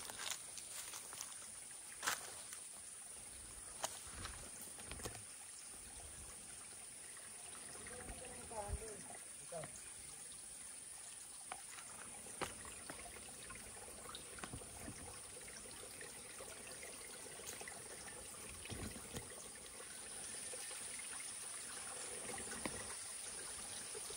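A small, clean stream runs along the boundary of rural farm property in Tanay, Rizal, with a faint, steady trickle and occasional light knocks and rustles nearby.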